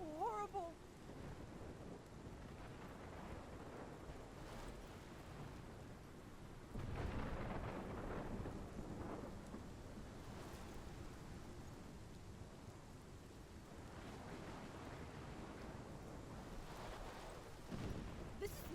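Thunderstorm in the Life is Strange Remastered video game: a low continuous rumble of rain and wind with a stronger thunder swell midway and another near the end, faint and distant overall.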